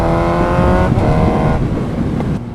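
A motorcycle engine revs while riding, a loud, close, continuous whine with shifting pitch steps as the revs climb and drop, wind and road noise underneath and no talking.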